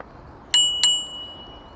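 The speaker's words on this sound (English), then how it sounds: "your bike must have a bell" Two bright bicycle bell rings about a third of a second apart, each with a clear lingering metallic tone fading out over a quiet background.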